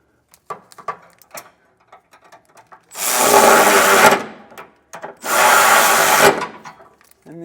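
Socket wrench or power driver running down bolts on a 5th wheel hitch in a 2024 Ford F-350 bed, two loud sustained whirring bursts of about a second each, preceded by scattered handling clicks.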